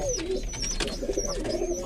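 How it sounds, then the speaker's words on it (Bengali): Domestic pigeons coo steadily in a loft where chicks have hatched this season, a continuous close murmur of low throaty calls with a few faint higher chirps over it and no talking. "আজকে যে আমার লফটে কটা পায়রার বাচ্চা ফুটেছে"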